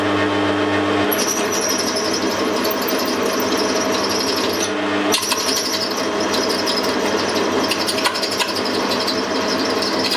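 A drill bores into metal on a lathe, giving a steady loud grinding whine with a shrill squeal running through most of the cut and one short break near the middle.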